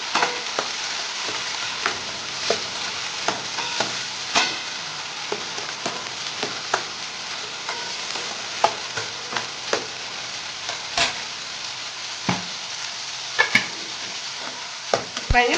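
Tomato pieces sizzle steadily in hot oil in a pan for a tamarind curry, punctuated by frequent sharp scrapes and clacks of a spoon stirring, close and fairly quiet.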